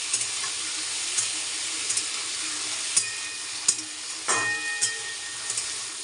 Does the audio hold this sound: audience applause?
no